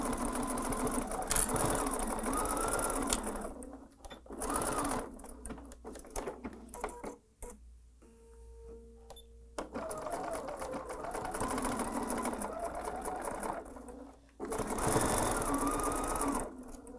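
A sewing machine runs a straight-stitch seam on fabric for a mini charm bag in steady, rapid whirring bursts, stopping and restarting between passes, with brief quiet gaps.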